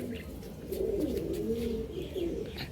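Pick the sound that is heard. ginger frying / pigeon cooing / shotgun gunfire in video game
pigeon cooing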